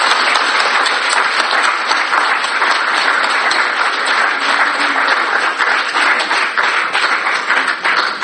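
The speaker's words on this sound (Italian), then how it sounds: "fate un bel applauso" Congregation applauding during a Catholic Mass at a retreat, dense and loud continuous clapping from a large crowd holding at an even level throughout.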